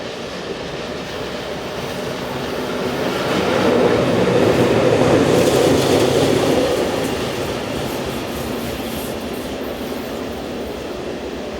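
Two ÖBB electric locomotives, 1144-095 and 1142-593, haul a train downhill on the Semmering Pass line toward Eichberg, wheels rumbling and clattering over the rails as it swells closer, passes, and then recedes.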